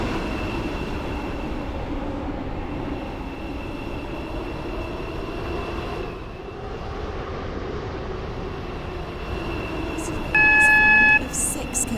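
A metro train in the game Stepford County Railway rolls along with a steady low rumble and a constant tonal hum, and a brief high two-tone chime sounds near the end.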